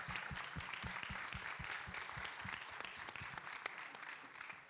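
An audience at the Premios HEAT educational talks gives steady, full applause for the first conference speakers, with a thick wash of clapping and some distinct nearby claps throughout.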